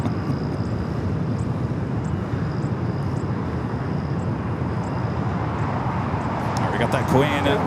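A Boeing 747 taxis toward runway 25 left at LAX, its jet engines giving a continuous broad roar nearby, with someone talking over it.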